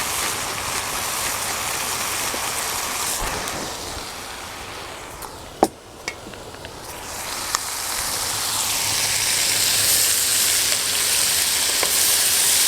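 Green beans with tomatoes and tasso sizzle steadily in a hot pan as they are stirred, a continuous bright frying hiss broken by a few clicks and scrapes of the spoon midway.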